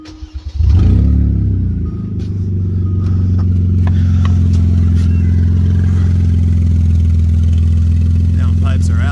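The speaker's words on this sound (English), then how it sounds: "the car with no exhaust at all" A Kia Stinger engine with downpipes removed and no exhaust cranks and fires, then settles into a loud, deep, rumbling idle with a raw, unmuffled growl, steady and close.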